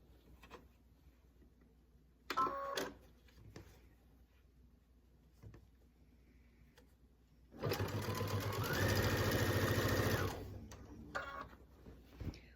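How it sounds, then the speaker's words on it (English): A sewing machine stitching quilt binding down, a steady fast mechanical whir for a few seconds after brief start-stop bursts, close and clear in a quiet room. "we're going to take this back to the machine and we're going to stitch this side down"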